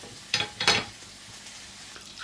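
Two short bursts of sizzling as meat hits a hot pan of butter and garlic, followed by a low, steady frying hiss.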